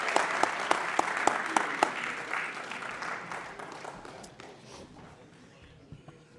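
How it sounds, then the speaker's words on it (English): An audience applauds at a high school football coach's event, with crisp, loud claps at first that thin out and fade over several seconds. "Let's give them a big round of applause."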